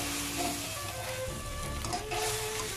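Spicy masala noodles being stirred in a pan, a steady wet sizzle with soft scraping and shuffling of noodles throughout, fairly close and continuous, with no talking.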